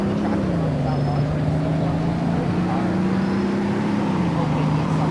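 Car engine in Roblox Greenville revving toward 6,000 rpm, a loud, steady drone that dips and climbs through gear-like steps, continuous throughout.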